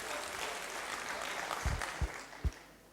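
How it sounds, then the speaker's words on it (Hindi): An audience at a safety technical session claps briefly and faintly in a hall, a few sharper claps standing out before the applause fades. "जरा जोर से तालियां बजाइए"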